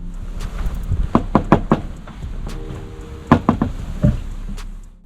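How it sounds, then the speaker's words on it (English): Several hollow knocks tap on the plastic bash plate of a Honda Transalp motorcycle, coming in quick close-up bursts with short pauses between them. "It should be clear by now that the Transalp's bash plate is made of plastic."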